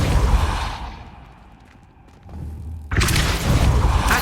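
Spell cast in Hogwarts Legacy, a Depulso force push: a deep whooshing burst that fades, then a second loud broadband blast near the end, with no talk.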